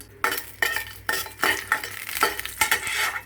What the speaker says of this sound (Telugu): ఇందులో జీడిపప్పు పలుకులు వేసుకొని వేయించేసుకుందాం.